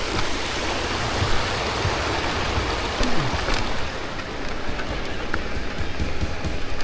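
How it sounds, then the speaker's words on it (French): A waterfall in a remote valley of Haute-Savoie, heard from directly opposite during an e-bike ride: a steady, broad roar of falling water that holds at constant loudness throughout, with no voices over it. "on commence à apercevoir la belle cascade là"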